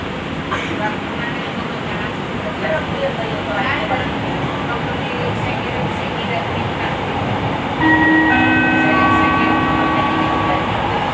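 A Jabodebek LRT light rail train near Jakarta rolls along with a steady rumble and rattle, loud and close, and a tonal whine rises near the end.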